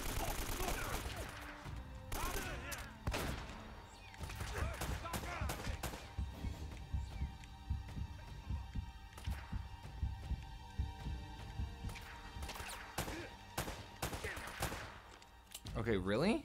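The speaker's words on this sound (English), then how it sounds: "How do you not die when I shoot you in the head?" Gunfire in the video game Uncharted: Drake's Fortune comes as scattered, fairly faint bursts of shots mixed with other game effects, with a person talking at times over the action.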